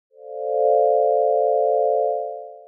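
Synthesizer holds a single pure, steady tone shaped by an attack-decay-release envelope, swelling in quickly, sustaining smoothly for about two seconds, then fading out, clean and alone.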